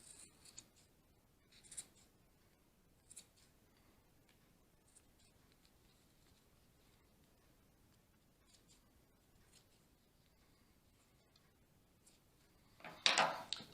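Scissors snipping a yarn pom-pom in small, careful cuts, faint intermittent clips spaced out, ending in a louder burst of cutting.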